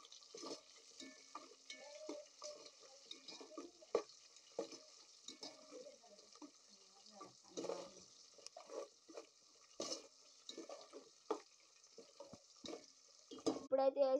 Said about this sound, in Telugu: ఉల్లిగడ్డ పచ్చిమిరకాయలు బాగా వేయించుకోవాలి